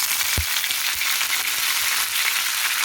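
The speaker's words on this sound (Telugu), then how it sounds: "చూడండి, ఆవాలు చిటపటమన్నా కదా" Mustard seeds crackle and pop in hot oil for a hotel-style sambar tempering with dried red chilli, a dense close sizzle with scattered sharp pops and no voices.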